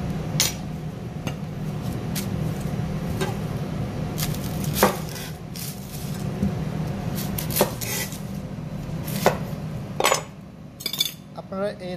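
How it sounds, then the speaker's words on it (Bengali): Onions and vegetables being chopped together in a kitchen, a run of sharp knife strikes at an irregular rhythm against a board, with light clinks of utensils over a low background hum. "আসুন আমি পেঁয়াজগুলোকে এবং সবজিগুলোকে একসাথে মিক্সড করে কেটে নিই।"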